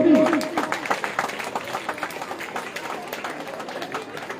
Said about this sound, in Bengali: প্রতিষ্ঠাতার জন্য কি হাততালি বলবো আমি?